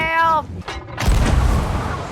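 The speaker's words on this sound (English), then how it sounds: "is that a cannon?" Ship cannon firing in the pirate video game Sea of Thieves, a loud booming blast that erupts after a brief voiced sound and rumbles on with heavy low-end noise for over a second.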